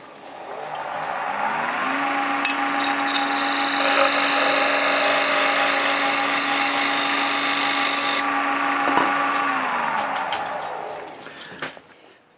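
A maple bowl spins on a wood lathe as a tool takes light finishing cuts, a steady whirring motor hum with a hissing scrape that swells midway, then drops away as the lathe winds down.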